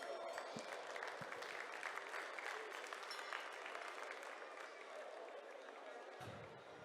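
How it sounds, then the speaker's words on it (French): Steady applause from a large audience greeting mountain dairy cattle presented at a French agricultural show, continuous and fairly even throughout, heard somewhat distant and faint. "Je pense que vous pouvez les applaudir."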